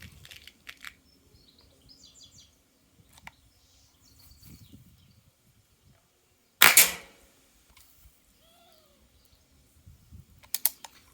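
A single sharp, loud crack from a CO2-powered airgun, close and sudden, standing out against near silence with a few faint clicks and bird chirps elsewhere.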